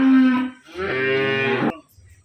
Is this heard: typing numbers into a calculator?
no